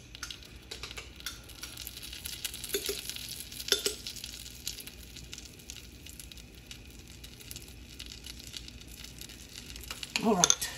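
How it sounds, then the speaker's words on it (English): Butter melting in a pan before shrimp seafood pancake batter goes in, giving a low steady sizzle with scattered clicks and stirring scrapes, and a louder clatter near the end. "Melting the butter first."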